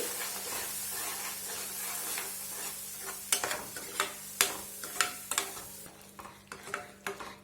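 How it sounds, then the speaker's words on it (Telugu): Masala paste frying in hot oil for egg curry, a soft continuous sizzle broken by several sharp scraping stirs of a spoon in the pan toward the end. "ఇలా వేసుకొని ఈ మసాలా మొత్తాన్ని ఒక 2 నిమిషాల పాటు బాగా వేపుకుందామండి"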